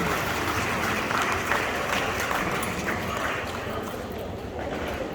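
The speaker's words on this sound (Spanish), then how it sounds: "Un aplauso para el matrimonio que todavía está con nosotros." Crowd applause for an elderly married couple being honored at a community gathering in a Mixtec village, steady broadband clapping at moderate level lasting several seconds, with scattered voices mixed in.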